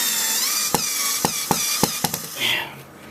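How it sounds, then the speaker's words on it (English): A power driver sinks large lag bolt screws into a ceiling while mounting a 55-inch TV, giving several short sharp bursts in a loose rhythm, with a brief whirring rise near the end. "He's getting the big lag bolt screws put into the ceiling here."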